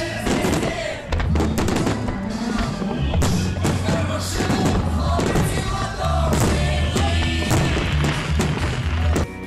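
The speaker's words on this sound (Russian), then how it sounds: "Завершил праздник фестиваль фейерверков." Fireworks festival over the Volga river in Nizhny Novgorod on Russia Day, with dense, loud bursts and booms thudding continuously over popular music for the whole stretch.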